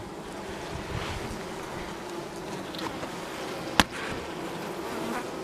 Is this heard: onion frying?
no